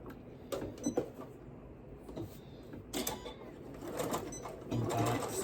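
A sewing machine stitches a seam on pajama pants, its motor running in steady bursts with brief pauses and a faster back-stitch run, close and moderately loud with no talking.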